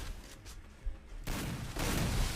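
Gunfire in a shooter video game during an elite-league match: a burst of shots, then dense, loud sustained firing fills the second half, with no talk.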